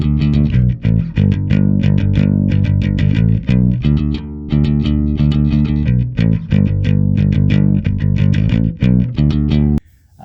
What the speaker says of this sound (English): if I hit it hard, it's going to distort more